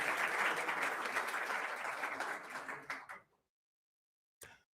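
Applause from the audience at a startup demo day final, a dense steady patter that fades out after about three seconds, followed by silence and one brief late sound.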